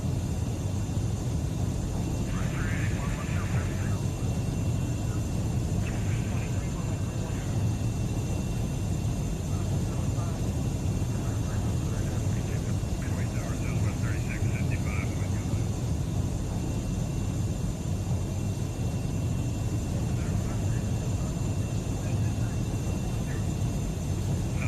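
An aircraft cruising in the World Flight VR game over the Australian Outback, a continuous droning engine rumble with steady airflow noise, unbroken and even throughout.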